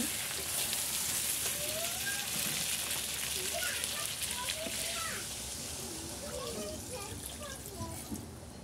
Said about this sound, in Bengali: আমি এখন জল অ্যাড করব